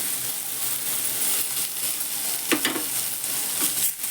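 Soaked chana dal is stirred into a ground paste of ginger, garlic, coconut and coriander in a pan, with a soft continuous sizzle and a few scraping stirs near the end, close and fairly quiet, no talk.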